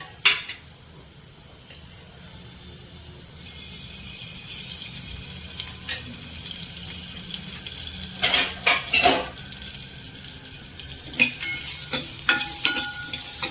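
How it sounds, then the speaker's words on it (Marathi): Finely chopped onion fries in hot oil for a chicken curry, a steady sizzle with clinks of a metal spoon scraping and stirring the pan, louder clatter bursts in the second half. "थोडंसं तेल ॲड करून बारीक केलेला कांदा चांगला ब्राऊन होईपर्यंत फ्राय करून घ्यायचा आहे आपल्याला"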